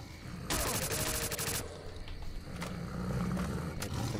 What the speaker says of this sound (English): I'm just firing in the hopes that I'm gonna hit something.